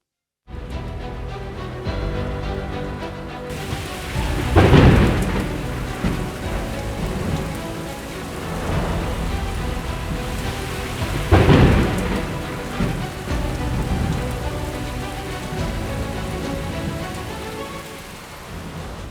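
Heavy rain pours steadily on surfaces in Surhoti village, Mendhar sector, Poonch district, Jammu and Kashmir, while two loud thunderclaps crash several seconds apart over the constant downpour.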